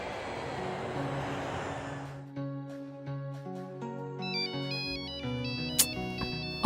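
A mobile phone ringtone plays a bright electronic melody, clear and fairly near, after a brief burst of louder background sound in a film scene.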